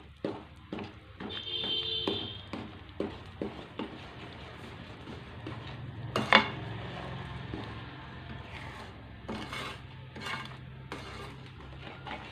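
A spoon scrapes and knocks in a pot while thokkudu laddu mixture is stirred together with sugar syrup, giving close, irregular clinks and scrapes over a steady low background.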